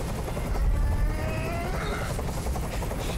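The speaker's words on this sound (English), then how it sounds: "I can't stand that noise anymore. Tell that helicopter to get out of here." Rotor drone of a helicopter hovering close by in the game Detroit: Become Human, a steady loud churning wash that fills the whole clip with no talk over it.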